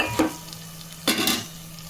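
Soft scraping stirs turmeric through a hot oil tempering with a light sizzle, two brief bursts of stirring against a steady low hum.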